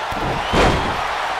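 In a wrestling video game match between Dean Ambrose and Velveteen Dream, the referee is floored with a single heavy slam, a loud thudding impact midway through over a steady backdrop of crowd noise.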